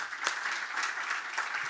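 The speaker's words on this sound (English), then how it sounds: "give Jonathan and Janet and the entire IPA team a big round of applause" A symposium audience gives a dense, continuous round of applause that stays steady and fairly loud throughout, with no voices standing out above it.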